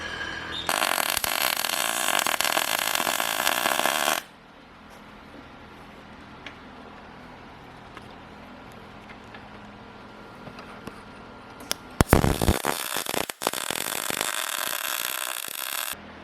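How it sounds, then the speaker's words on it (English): A power drill whines steadily and loudly at close range for several seconds, stops, then grinds again with harsh scraping bursts as it drills through a metal spacer for a Honda Beat subframe. "I'm trying to drill through that right now"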